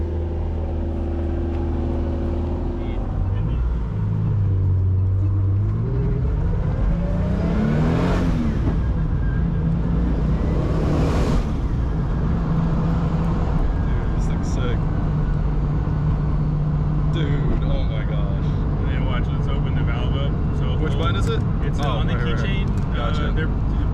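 A BMW E36 fitted with a 2JZ engine, its valved exhaust shut, idles and revs in a subdued, fairly quiet way. The rev rises and falls twice, with some voices talking alongside.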